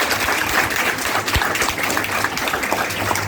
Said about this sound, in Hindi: एक जोरदार तालियों से सबसे पहले सर का स्वागत कीजिए।